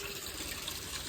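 Water runs from a tap, filling a container to give cows a drink, as a brief, steady rushing splash with no voices.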